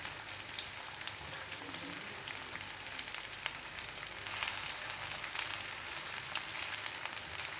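Two large chopped onions sauté in a pan for a tinda bhujia, a continuous soft frying hiss with faint crackles, close and steady for the whole stretch.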